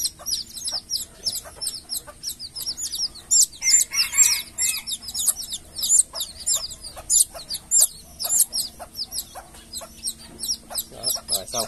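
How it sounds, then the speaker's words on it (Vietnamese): Busy, high-pitched chirping and clucking from several F2 jungle fowl hybrid chicks, a dense scatter of short calls with occasional wing flutters, fairly close. "Đây là gà rừng F2 của mình nha mọi người nha."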